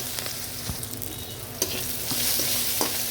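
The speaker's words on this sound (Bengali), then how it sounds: "পেঁয়াজটি ভেজে নিই" Onion frying in oil for a Bengali rui fish curry, a steady sizzle close by with a few spoon scrapes and knocks as it is stirred.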